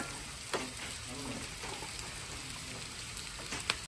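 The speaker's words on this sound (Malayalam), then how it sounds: "സവാള നമുക്ക് സെറ്റ് ചെയ്ത് മൂപ്പിച്ചെടുക്കാം" Onions frying in oil for Kerala-style chicken biryani, a dense, even sizzle like light rain, close and steady with a couple of faint utensil taps and no talking.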